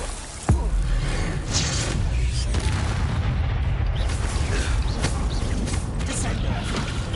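A Confringo explosion spell from the game Hogwarts Legacy goes off with a sharp, deep boom, then a heavy, sustained rumble of fiery blast noise. A voice talks beneath it.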